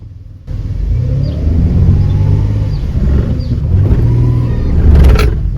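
A car engine revs up hard in reverse gear with a faulty transmission, a low, steady rumble that swells and holds, rising again near the end, close and loud with no talking.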